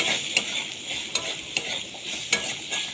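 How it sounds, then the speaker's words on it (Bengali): A spice paste with chili powder and salt sizzles steadily in a pan, with sharp scraping stirs of a spatula recurring every second or so, close and fairly loud, with no voices. "দিয়ে দেবো লঙ্কার গুঁড়ো, দিয়ে দেবো নুন, দিয়ে মশলাটাকে ভালো করে কষিয়ে নেব।"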